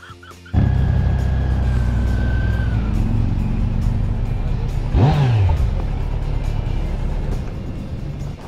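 A Kawasaki Z900 948cc motorcycle fires up loudly and holds a deep, throbbing engine note close by, with a brief rising-and-falling revving sweep midway before settling back to a steady rumble.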